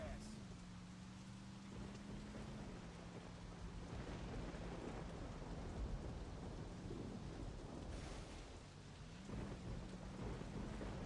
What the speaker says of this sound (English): whenever I hear thunder and lightning